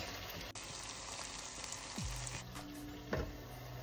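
Spice masala sizzles and fries steadily in a pan, a dense continuous crackle with a couple of brief scraping stirs, close and fairly loud with no talking.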